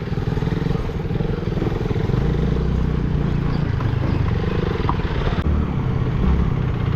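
A motor scooter rides along with a broken change pocket, its engine droning loudly and steadily up close the whole time, with some rattling and thumps from the road.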